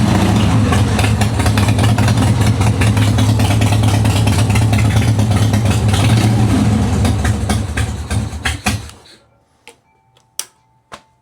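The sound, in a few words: 1985 Harley-Davidson FXWG motorcycle engine idling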